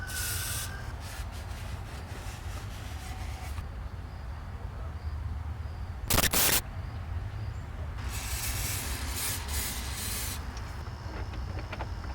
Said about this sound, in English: I'm gonna go ahead and spray that with the CRC